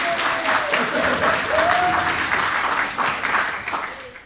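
A crowd at a fitness summit claps, with loud, sustained applause and a few whistles on top before it slowly begins to fade.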